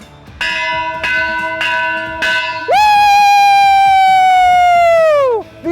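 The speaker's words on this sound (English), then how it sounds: "Ring that bell!" A bell rung on a coaches' sports show: four quick struck chimes followed by one long sustained ringing tone that fades and cuts off, loud and close.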